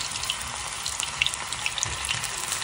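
Small balls of kalan batter deep fry in oil at a roadside stall, a close bubbling sizzle with a few sharp pops and crackles scattered over a steady hiss.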